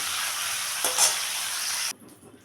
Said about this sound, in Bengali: তো চিংড়ি মাছটাকেও তেলের মধ্যে ছেড়ে দিলাম, দিয়ে এখন একটু ভেজে দিচ্ছি